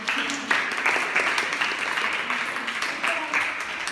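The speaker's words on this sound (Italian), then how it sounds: "Fate un applauso." An audience at a corporate communication training course applauds, a continuous, fairly close patter of many hands clapping that holds steady throughout.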